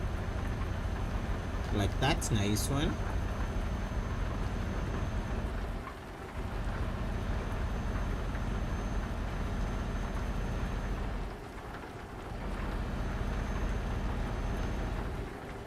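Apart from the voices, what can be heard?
rain in a truck driving video game (TruckersMP)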